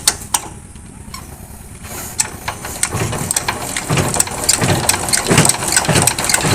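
A diesel engine with a jammed plunger is hand-cranked with a handle, its mechanical churning building into a rhythmic, knocking chug that grows steadily louder and close by.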